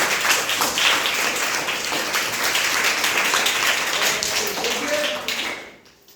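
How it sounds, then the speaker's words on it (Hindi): A group claps loudly in a dense, sustained burst of applause that carries on evenly before fading away at the end. "चलिए जोरदार ताली बजाइए।"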